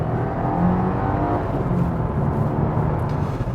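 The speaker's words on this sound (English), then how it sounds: "The main thing you hear is sort of induction noise and a bit of whining from the engine itself." A 2022 Subaru WRX engine pulls hard with a steady induction roar and a faint engine whine layered on top, loud and continuous with no talking.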